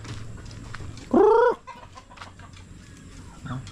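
A chicken gives a single loud, short squawking cluck at a backyard flock at dusk, close by, followed by quiet with faint scattered bird sounds.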